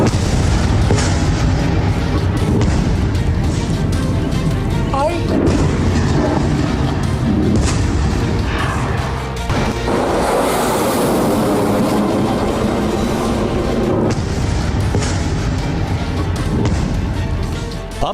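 A Hezbollah rocket strike hits Haifa, producing a loud, sustained roar of rumbling explosions with repeated heavy booms rolling over one another for the whole stretch.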